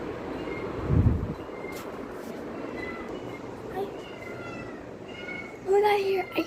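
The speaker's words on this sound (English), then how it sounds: "Oh my god, I hear them meowing." Two cats meow intermittently in a room, a short thin meow and a louder drawn-out cry near the end, mixed in with people talking.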